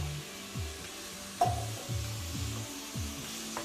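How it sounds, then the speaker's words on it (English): A spoon stirs tomatoes and beef stock in a pot for a Mediterranean beef ragout, breaking up the tomatoes, with several soft scraping strokes in a steady rhythm over a quiet sizzle and one sharper clink of utensil on pot. "Breaking up the tomatoes as we go around"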